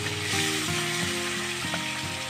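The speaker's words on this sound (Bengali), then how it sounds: "এবার হলুদ লবণ দিয়ে মেখে রাখা মাছগুলো তেলের মধ্যে এক এক করে দিয়ে" Sarputi fish rubbed with turmeric and salt frying in well-heated oil, giving a steady, close sizzle throughout with faint tonal background music beneath.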